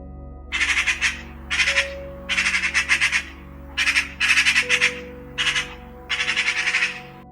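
A magpie gives repeated harsh chattering squawks in seven quick bursts, fairly close and loud over a steady low hum, with no talking.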